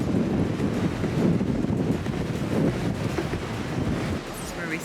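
Ocean waves and gusty wind at a Cancun beach after stormy weather roar steadily as a broad, close wash of noise, buffeting the microphone throughout.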